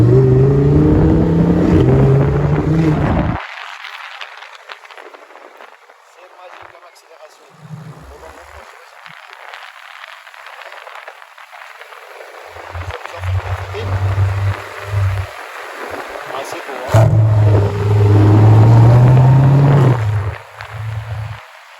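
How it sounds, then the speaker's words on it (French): A Lamborghini Huracan Evo Performante Spider driving on the Champs-Élysées in Paris near the Arc de Triomphe, its engine note rising and falling in bursts amid street traffic, loud near the start and again later. "Huracan Evo. Performante. Spider. Avenue des Champs."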